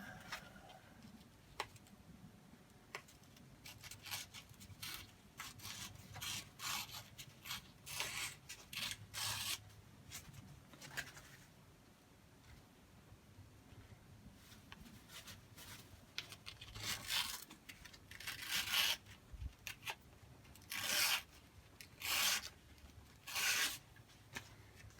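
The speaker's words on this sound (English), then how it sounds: "We reset the camera up and do a little sanding." Parts of a Gravely L8 mower are sanded by hand, giving soft rasping rubs in irregular bursts that grow stronger and more rhythmic toward the end, close up and with no talk.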